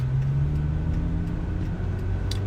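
A 2012 Kia Forte Koup on the move, its steady engine hum and road rumble droning evenly throughout with no talking.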